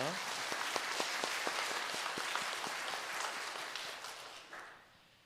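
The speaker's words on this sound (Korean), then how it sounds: "다시 한 번 더 박수로 감사의 마음을 표현하겠습니다" A church congregation at the second Sunday service applauds in thanks after the sermon, a dense, steady patter of many hands that fades away near the end.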